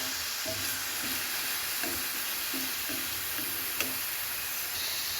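Onion and ginger paste fry in oil for egg kurma, giving a soft, steady sizzling hiss with a few light stirring clicks, moderately quiet throughout.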